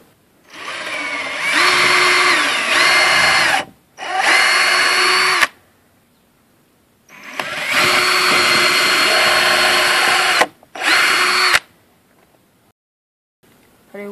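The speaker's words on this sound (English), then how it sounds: "My drill bit is slightly bigger than my bolt. We'll be putting 3 holes on this end" A power drill bores bolt holes through a wooden Fresnel lens frame in four bursts of loud, close whining, the pitch dipping as the bit bites, with quiet gaps between bursts.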